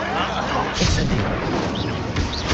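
Incendio fire spells cast again and again in the Hogwarts Legacy video game, loud bursts and crackling blasts over a steady wash of combat noise, with voices mixed in.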